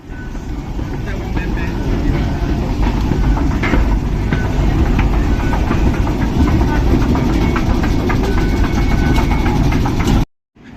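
Steady loud rumble of a metro train running, constant rolling roar throughout that cuts off abruptly near the end.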